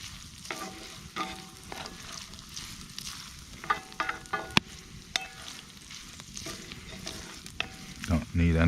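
Eggs are stirred in a pan over a camp stove outdoors, a soft sizzle running under irregular scraping strokes and a few sharp clinks of utensil on metal, faint and close with no talk.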